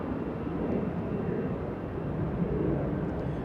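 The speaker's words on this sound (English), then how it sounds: "A737. That's Sun Country Airlines flying to Vancouver." Sun Country Airlines Boeing 737 jet passing overhead near Los Angeles International Airport, a steady broad low rumble of engine roar holding evenly throughout, moderately loud and without talk.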